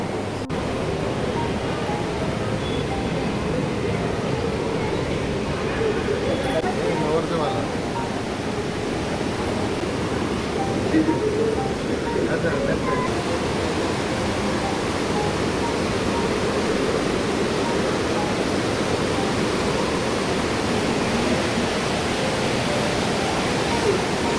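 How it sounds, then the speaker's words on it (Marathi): A river surrounding a temple near Mangalore, Karnataka, flows with steady rushing water, a continuous broad wash of noise, with faint voices now and then in the background. "मंदिराला पूर्ण चारी बाजूने पाण्याने वेढलेलं नदी आहे. नदीच्या मध्येच मंदिर आहे."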